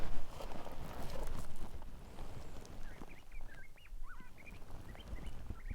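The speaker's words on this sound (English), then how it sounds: "That's a nice bit of birdsong." A string of short, high bird chirps and whistles starts midway, faint and somewhat distant, over a rustling outdoor background on the Arizona Trail between Oracle and Kearny.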